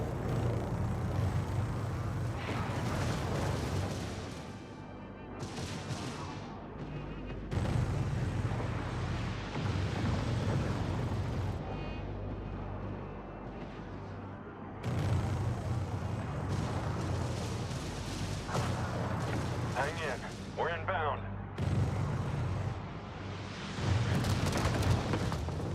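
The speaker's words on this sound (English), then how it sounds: "Cannon fire and missiles travel through real space and will collide with obstacles." Cannon fire and missile impacts rumble through a space battle in the strategy game Homeworld 3, a dense, continuous wash of deep booms and blasts with repeated louder surges, layered over ship engine drone and no talk.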